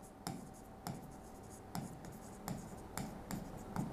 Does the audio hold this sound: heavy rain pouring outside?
no